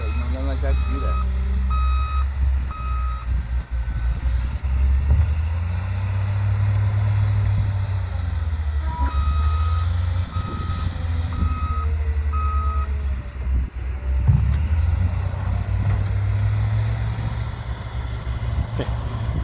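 A loader's reversing alarm beeps in evenly spaced bursts under a rumbling idling engine outdoors in Pahrump, Nevada, with people talking nearby.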